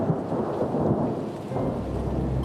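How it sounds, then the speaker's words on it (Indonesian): A thunderstorm with rain in a children's Rapunzel cartoon: low rolling thunder rumbles under a steady hiss of falling rain, loud and continuous throughout. "Aduh, cuaca akan hujan."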